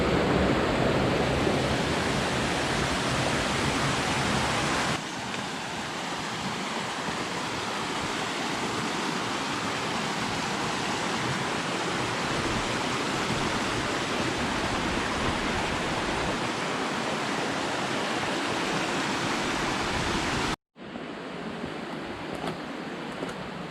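Creek water rushing steadily at a secluded swimming hole on Little Elk Creek in the Black Hills of South Dakota, a continuous loud wash of flowing water that briefly cuts out near the end, with no talking.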